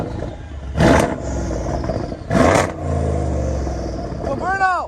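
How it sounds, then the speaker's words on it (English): A Mercedes CLS 63 AMG at a modded car show revs hard twice in sharp, loud bursts, then settles back to a burbling idle before a final rising rev, with onlookers talking around it. "we're gonna rev the CLS 63 AMG"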